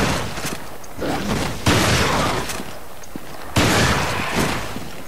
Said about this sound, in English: 3 shots from the Windham to take down a hunter at close range